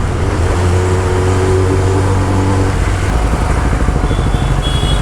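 A Kawasaki ZX10R motorcycle engine roaring loudly inside a tunnel, a dense sustained growl that echoes off the walls, holding steady before its pitch settles into a rougher rumble.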